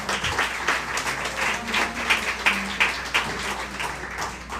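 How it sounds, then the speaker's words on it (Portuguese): A church congregation gives a round of applause to the Lord after a prayer, moderately loud rhythmic clapping with a few accented beats, somewhat uneven and rising and falling over a low background. "A salva de palmas ao Senhor."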